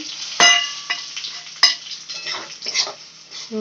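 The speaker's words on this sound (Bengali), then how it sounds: "মশলাটা দিয়ে হালকা কষিয়ে নিচ্ছি" Cumin, coriander, turmeric and chilli powders with salt lightly frying and being stirred in a pan for a home egg-poppy-seed dish: steady soft sizzle with sharp spatula scrapes and clinks against the pan, close up.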